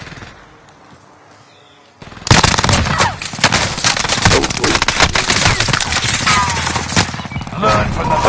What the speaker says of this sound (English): Someone else was shooting me.